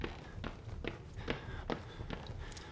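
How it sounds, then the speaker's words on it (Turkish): Heavy footsteps approach in the horror game Outlast, about six evenly spaced thuds at a steady walking pace, fairly close and distinct over a low ambient hum. "Evet ayak sesleri geliyor."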